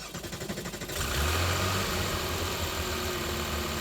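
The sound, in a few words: Porsche 964 reimagined by Singer engine starting and idling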